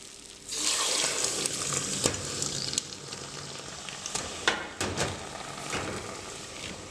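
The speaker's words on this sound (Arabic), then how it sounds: "هنحط المية اهي" Water poured into hot caramel in a pan while making carob juice, giving a loud, steady rushing hiss and sizzle that runs from about half a second to the end, with a few sharp crackles along the way.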